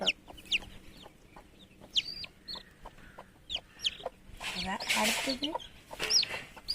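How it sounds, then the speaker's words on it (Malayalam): Newly hatched chicken chicks at home peep repeatedly, in high, sharp, close chirps that come in quick bursts, while people talk and move around nearby. "അതാ ഫസ്റ്റത്തെ കോഴിക്കുട്ടി"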